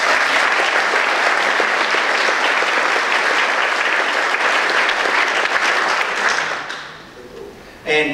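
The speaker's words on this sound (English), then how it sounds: "Special round of applause please for George" A school concert audience applauds the student compere George, loud, dense clapping and some cheering from a large crowd that keeps going for several seconds before fading out abruptly, followed by a brief thump.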